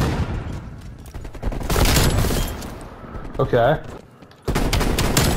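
Rapid M16 rifle bursts ring out in Call of Duty: Cold War, loud and close in a couple of volleys, while a player speaks over the shooting.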